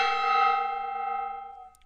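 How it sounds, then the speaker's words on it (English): A decorative gong struck once in a workshop rings out with a long, shimmering metallic tone of stacked overtones that slowly decays over about two seconds, heard alone and fairly close. "I'm going to hit that gong using their channel points"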